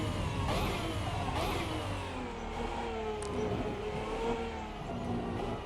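A racing car engine in a sim racing game, the BAC Mono or Pagani Zonda R, revving hard and steadily under throttle with a continuous loud drone and shifting pitch, with no talking.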